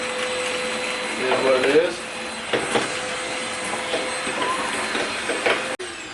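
A vacuum cleaner drones steadily as it sucks debris off a Scag V-Ride lawn mower deck, with rattles and clatters of bits being pulled in and someone talking over the constant whine.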